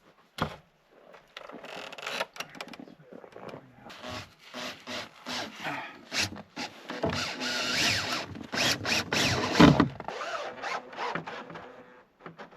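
Wood being chipped and worked by hand in sub-zero cold on a remote Alaskan homestead, a close series of irregular scraping and rasping strokes with brief pauses, no talking.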